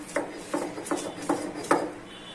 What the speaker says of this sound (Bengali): আদাটা বেটে নিচ্ছি